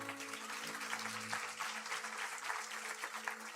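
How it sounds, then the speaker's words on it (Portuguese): Steady crowd applause at a church service, dense and sustained for several seconds, with a low organ-like tone held underneath. "Aplauda ao Senhor."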